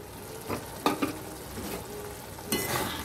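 Fried potatoes tipped into sizzling oil and stirred for a murighonto with Gobindobhog rice and fish, a close hiss punctuated by a few clattering spoon knocks and a fresh surge of sizzle near the end.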